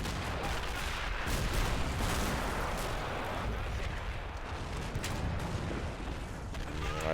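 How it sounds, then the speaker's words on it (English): 37 mm anti-tank guns fire in a Men of War: Assault Squad battle at Seelow Heights, 1945, with repeated distant booms and rumbling over dense, continuous battlefield noise. "Our 37 millimeters taking shots at the side of some of those vehicles."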